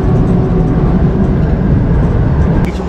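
The Kalka–Shimla toy train runs slowly along the mountain line after leaving Barog station, a loud, close, continuous rumble and rattle of wheels and carriage with no pauses.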